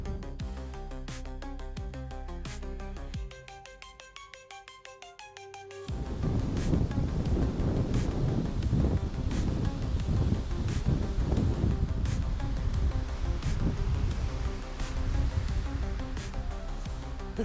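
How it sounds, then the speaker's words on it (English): Strong, extremely cold wind blowing snow around on a mountain hike near Ralph Price Reservoir, a loud continuous roar buffeting the microphone, quieter at first and then surging to a heavy sustained blast. "Extremely cold, very windy, and we got snow blowing around."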